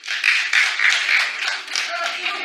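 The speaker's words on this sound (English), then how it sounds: "Clap if you do." A talk-show studio audience claps in a sparse, uneven burst, individual claps close and distinct rather than a full roar, lasting a couple of seconds.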